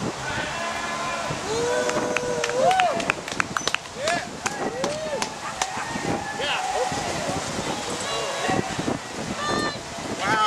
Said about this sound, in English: We're competing with the wind now